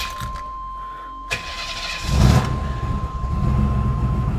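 A car engine cranks quickly with help from a JFEGWO 6000 amp jump starter, then catches and settles into a steady running rumble, close and loud, with no talking.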